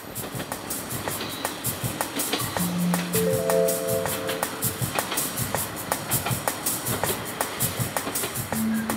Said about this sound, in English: The train travels between the sea and the mountains.